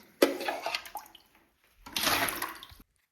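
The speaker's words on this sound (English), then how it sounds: "I'm just using my plastic cup to pull the water out and put it in this bucket." A plastic cup scoops water from a toilet bowl and dumps it into a bucket, two separate splashy pours of about half a second each, with silence between them.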